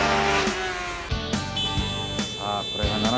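A student formula race car launches on a 75-metre acceleration run at a Japanese student formula competition, its engine revving in quick rising bursts through gear changes, with an announcer talking over it.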